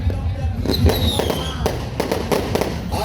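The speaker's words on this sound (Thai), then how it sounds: "ก่อนที่มันจะจุดบังไฟล้านมันก็จะจุด ดอกไม้ไฟแบบนี้ซะก่อน" Fireworks go off ahead of a Lao rocket festival launch, with repeated bangs and crackling bursts over steady crowd noise and faint voices.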